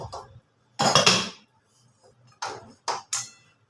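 A metal wok (kadai) set down on a gas stove in a home kitchen during fish cooking: a close, sharp metallic clank followed by a few lighter clinks and knocks, with no voices.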